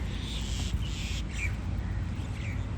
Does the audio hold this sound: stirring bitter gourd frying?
no